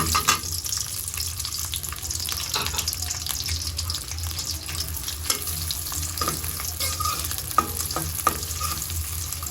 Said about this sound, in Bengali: পেস্টটা একটু হালকা বাজা দিয়ে রাখলাম